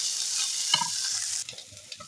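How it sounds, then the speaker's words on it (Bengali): Fish roe frying in a pan, a bright steady hiss of hot oil with a quick spatula scrape as it is stirred, the sizzle softening partway through, close and fairly quiet. "আর একটু ভাজা ভাজা হলে নাড়িয়ে নেবে, নাড়িয়ে নামিয়ে নেবে।"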